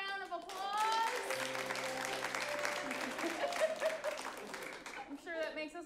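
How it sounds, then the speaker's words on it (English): Audience at an improv comedy show breaks into applause, a burst of clapping that swells and holds for several seconds while a voice speaks briefly at the start and again near the end. "Let's give Luke a round of applause."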